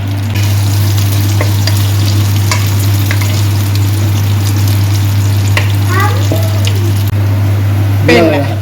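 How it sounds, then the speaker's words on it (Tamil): Onion, curry leaves, fenugreek and fennel sauté in a pan for mushroom biryani, a steady sizzle under a loud low hum, with a few faint clinks of stirring and a brief voice near the end. "இதுக்குள்ள இப்ப வெங்காயம் கருவேப்பிலை பிரியாணியில உள்ளி வெந்தயம் பெருஞ்சீரகம் போட்டு இப்ப வதக்க போறீங்களா"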